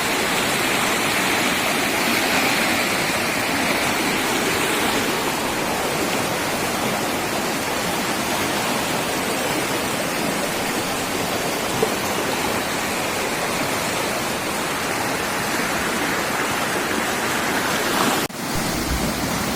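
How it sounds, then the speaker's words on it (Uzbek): A mountain stream at Shohimardon rushes noisily over rocks, a dense, constant roar of water that stays loud and close without pause. "Soy shovllab oqib turibdi."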